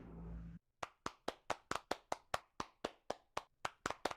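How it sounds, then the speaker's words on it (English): Crisp, evenly spaced hand claps ring out close and clear, a rapid steady rhythm of about a dozen sharp strikes following a brief burst of noise, as an online ocean innovation event for UN World Oceans Day welcomes its next speaker. "let's give a strong clap to David"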